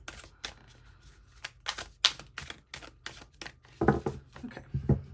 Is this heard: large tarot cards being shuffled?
yes